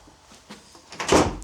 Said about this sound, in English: Those are those fire doors close.